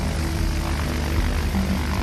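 A Vought V-173 propeller aircraft drones steadily throughout, a continuous low engine and airscrew roar with no pauses, fairly loud and alone without voices.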